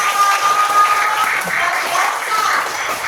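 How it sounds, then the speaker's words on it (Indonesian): Applause from a classroom of students for all the groups after a computational thinking lesson, a steady wash of many hands clapping close by, with a voice speaking over it. "tepuk tangan untuk semua kelompok"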